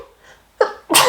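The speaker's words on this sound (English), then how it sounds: "because I'm gonna sneeze." A single close, loud sneeze from a person colouring and chatting, a short breathy intake building into a sharp explosive burst at the end.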